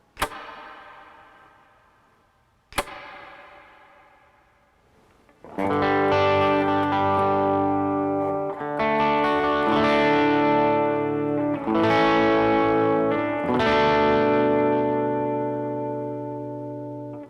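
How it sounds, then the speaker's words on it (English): Electric guitar through a Strymon BigSky room reverb preset: two muted string clicks, then several full strummed chords ringing out, each decaying into a wet, ambient room-like tail. "So here is the room reverb."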